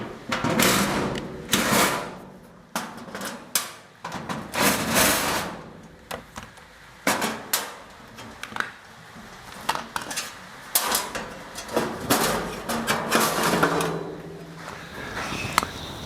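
Sheet metal for custom running boards on a 1939 Hudson rat truck being worked through a hand-cranked bead roller, giving a sequence of close metallic clanks, rattles and squeaks in irregular bursts with short pauses between.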